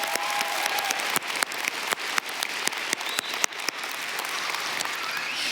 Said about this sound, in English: Join us in a round of applause.